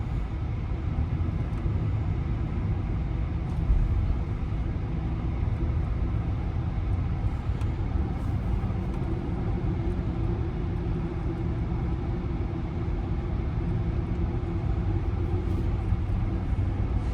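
A Tesla Model Y cruises along a winding mountain road, giving a steady low road rumble and tire noise with quiet cabin ambience throughout and no talking.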